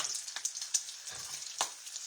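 Eggs fry in a small skillet about five or six inches across, a steady close sizzle with a few sharper crackles and spits.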